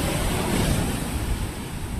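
Large waves churn on the open sea in a dense, steady hiss and roar of water, close and unbroken, with wind noise mixed in.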